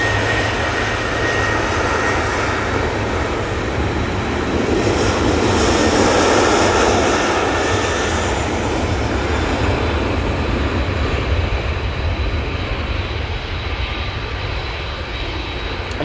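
A TUI Boeing 787 Dreamliner jet at Manchester Airport, a sustained, loud engine roar that swells and fades gradually across the whole stretch, alone without talk.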